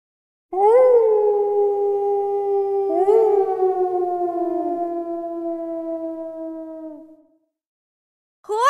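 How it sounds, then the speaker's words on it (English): A long, sustained wolf howl rises and then slowly falls, followed by a second drawn-out howl. A brief cry starts again at the very end. "Wolf"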